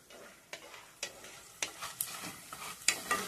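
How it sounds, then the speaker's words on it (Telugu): Dry meat pieces fry in hot oil with a soft continuous sizzle, broken by several sharp scraping stirs of a spatula spaced roughly half a second apart, close and moderately loud with no talking. "ఎండు ముక్కలు బాగా వేగిపోయాయండి నూనెలో."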